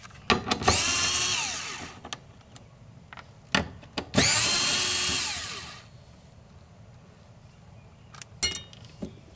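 Short bursts of a cordless power tool with a magnetic socket backing out fuel pump screws on a 1995-1999 Nissan Maxima, two longer whirring runs among quick taps and clinks of metal, close by.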